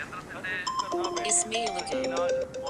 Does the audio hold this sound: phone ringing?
yes